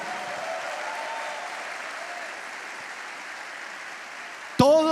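Church congregation giving an ovation, a sustained roar of applause at moderate level that stays steady, then cut off abruptly by a loud voice near the end.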